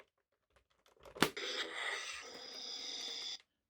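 A Hasbro Black Series Darth Vader helmet plays its laboured breathing effect: a sharp mechanical click followed by a raspy, hissing wheeze held for about two seconds, close and isolated against silence.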